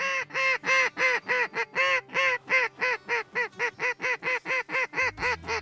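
Loud, close, rhythmic honking and quacking of a large flock of ducks rising from a snowy Dakota field during freeze-up, about twenty calls in quick even succession with no talk.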